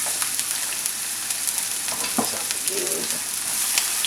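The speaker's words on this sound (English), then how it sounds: "we're adding some onions to the skillet" Onions frying in a skillet give off a steady, loud sizzle throughout, with small clinks and stirring scrapes scattered over the crackle.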